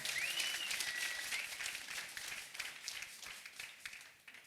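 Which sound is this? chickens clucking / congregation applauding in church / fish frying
congregation applauding in church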